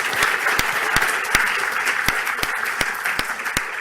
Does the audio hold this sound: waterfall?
no